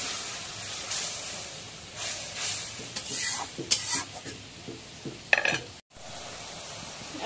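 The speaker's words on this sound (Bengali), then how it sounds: "এখন নাড়িয়ে দিই।" A spice paste of ground cumin, onion and garlic sizzles in a hot pan while being stirred, with scraping strokes over a soft hiss and a brief louder clatter near the end.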